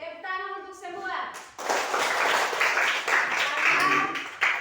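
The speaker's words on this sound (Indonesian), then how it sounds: "tepuk tangan untuk semua" A classroom of fifth-grade children claps together, a dense burst of applause starting about a second and a half in and continuing steadily, preceded briefly by a teacher's voice.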